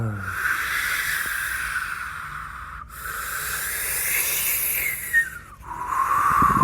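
A voice imitates wind in the trees with a sustained airy, breathy whoosh that swells and fades in long waves, broken by two brief pauses for breath, fairly close and steady in loudness.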